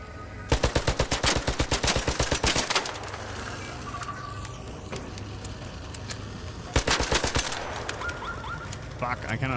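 Automatic gunfire in the Arc Raiders video game aimed at an enemy, two long rapid bursts of sharp, loud shots separated by a few seconds of quieter background noise.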